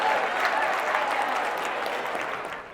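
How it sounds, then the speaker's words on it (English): Audience applause at a marketing seminar, a lively burst of clapping from a crowded room that holds steady and tapers slightly at the end. "Clap it up for yourselves and have a seat."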